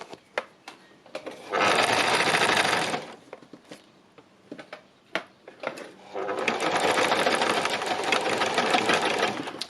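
Sewing machine stitching shiny fabric onto wadding, two loud sustained bursts of rapid mechanical whirring separated by quieter clicks and handling taps, close up with no talking.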